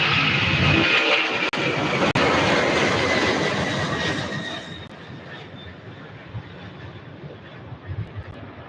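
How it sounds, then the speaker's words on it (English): A silver Cessna 195 propeller plane passes at an airport, its engine a loud broad roar that fades and thins out over several seconds, with a couple of brief clicks. "A silver Cessna 195. That is amazing to see on stream."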